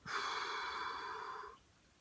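One long, deep exhale through the mouth during a cycling stretch, a soft breathy rush lasting about a second and a half before fading into quiet.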